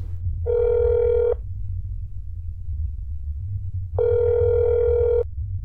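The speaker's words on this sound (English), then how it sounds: "I got the phone!" A telephone rings in the video game That's Not My Neighbor, two long electronic ring bursts separated by a pause over a low rumbling hum.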